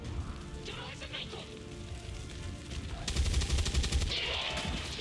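A rapid burst of gunfire in XCOM 2 Long War, fast repeated shots lasting about a second over a busy, noisy game background.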